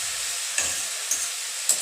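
Tomatoes stirred into cooked onion, ginger and garlic in a pan, a steady hiss of frying with three short scraping strokes of a spoon, close and without talk.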